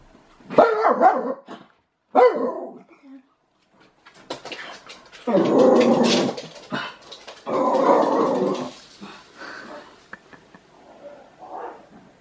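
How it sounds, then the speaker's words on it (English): A pet dog barks and growls at something outside, in loud, close, uneven bursts separated by short quiet gaps. "My dog's seen something outside, so please excuse her."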